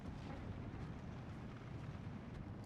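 Distant Centaur tanks firing shells in Steel Division 2, heard as a continuous low rumble of faint booms and battle noise under a steady wash, with no single loud shot standing out.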